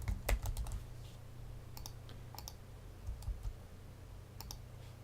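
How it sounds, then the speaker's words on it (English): Quiet, crisp keystrokes of login details being entered on a computer keyboard, arriving in short irregular clusters of clicks over a low steady hum, with no talking. "we're going to type in our login credentials."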